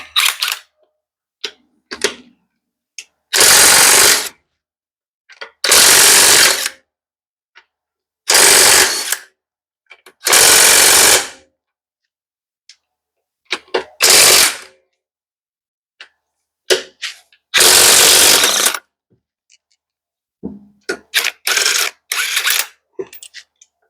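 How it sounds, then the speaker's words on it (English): A power tool removes the 19 mm lug nuts from the rear wheel of a 2023 Subaru Crosstrek in several loud, sharp mechanical bursts of about a second each, separated by quiet pauses. "I'm going to get the lug nuts off."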